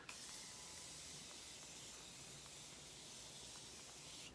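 Makeup setting spray mists onto a face in a continuous, even hiss that lasts the whole time, quiet and alone.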